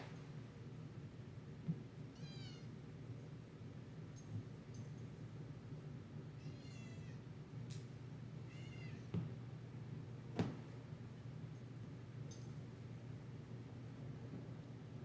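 A house cat gives several faint, short meows spaced a few seconds apart, heard alone over a steady low indoor hum.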